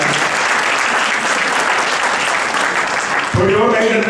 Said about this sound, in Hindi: एक बार जोरदार तालियां महेश जी के लिए बजा दीजिए।